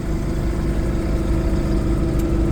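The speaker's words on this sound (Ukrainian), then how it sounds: "Двигун дизельний трьохлітровий. Toyota 1KD, рядный четырехцилиндровый двигун." A Toyota 1KD three-litre inline four-cylinder diesel engine in a 6-tonne Toyota forklift idles with a steady, close, even low rumble that neither rises nor falls.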